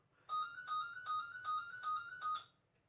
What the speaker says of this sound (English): okay, we don't answer that phone